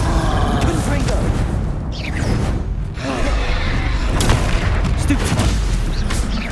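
Blasting Confringo spells cast during combat in Hogwarts Legacy, a loud continuous roar of booms, whooshes and explosive bursts with voices shouting over the chaos.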